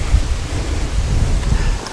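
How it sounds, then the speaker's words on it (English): Low rumbling thunder from an approaching storm rolls continuously beneath a wash of wind and rain-like noise, steady and fairly loud for the whole moment. "Might get a little storm here."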